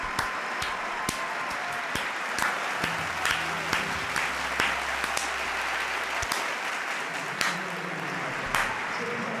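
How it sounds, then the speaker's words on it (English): A large stadium crowd at a Barcelona versus Valencia La Liga football match applauds steadily during a substitution, a broad wash of clapping with distinct nearby claps and faint crowd voices underneath. "Round of applause for them."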